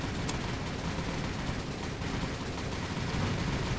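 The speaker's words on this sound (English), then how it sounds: "Might just have to turn on auto fire once again then." Ship's guns on automatic fire in the naval game War on the Sea, heard as a dense, continuous roar of rapid gunfire and blasts that holds loud and steady for the whole stretch.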